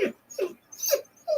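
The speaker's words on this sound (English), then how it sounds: "the dogs know I'm in here now. I just heard them whine." A dog whines in four short, high, rising whimpers spaced evenly apart, fairly close and clear with nothing else around them.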